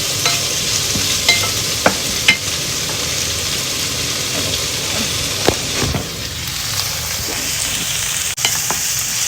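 Vegetables for tonjiru miso soup cook in a pot with a steady hiss and bubbling, broken by scattered clinks and taps of a utensil against the pot.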